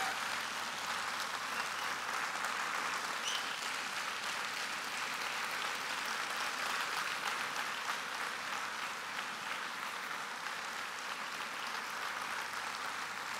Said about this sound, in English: Please give it a very big round of applause for this powerful lady